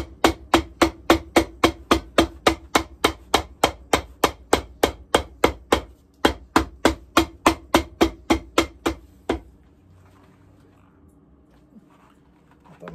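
Sharp hammer strikes on a Magnanni shoe land in a fast, even rhythm, dozens of loud blows with one short pause, then quiet after the last hit.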